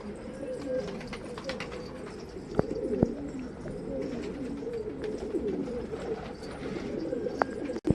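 A coop packed with hundreds of flight pigeons cooing in a steady, low, overlapping murmur, broken by a few sharp clicks and knocks, with no clear talking.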